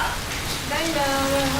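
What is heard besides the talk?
rain falling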